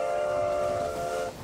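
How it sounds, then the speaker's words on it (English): Train arriving at a station, a sustained multi-tone horn sounding loudly over rumbling rail noise for about a second before cutting off. "my train is here."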